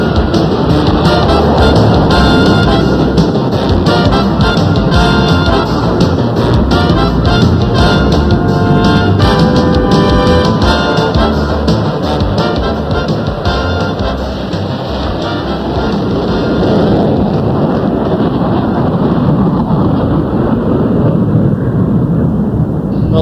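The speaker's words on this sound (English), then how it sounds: "with the thunder of afterburners echoing through snow-laden valleys" Military jet afterburners give a continuous, loud, broadband roar that echoes through snowy Alaskan valleys, steady for over twenty seconds with a slight dip midway.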